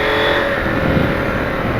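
A KTM 890 Adventure motorcycle fitted with an aftermarket AliExpress exhaust drones close and loud, a steady throaty engine note held for a couple of seconds without a clear rev rise.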